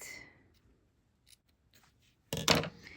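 Scissors trimming a junk journal cover: a few faint snips early on, then a sharp, close double cut near the end, otherwise quiet.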